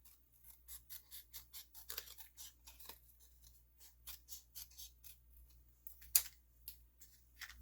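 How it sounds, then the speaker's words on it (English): Scissors snip a curved edge into paper for a pop-up card, a quick run of about twenty crisp, quiet cuts in a regular rhythm with one sharper snip near the end. "I think I'm going to cut a little curve into this, just so it looks more like a hill."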